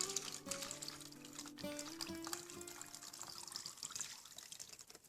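Hot melted beeswax pours through a colander in a steady close trickle, with splashy liquid sounds and faint tonal ringing from the container, continuing for several seconds.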